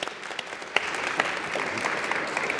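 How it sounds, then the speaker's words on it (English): Applause from an audience at a public forum on racial justice and ending violence, moderately distant, with a steady patter of clapping and a few sharper claps standing out. "Let's give them all a round of applause."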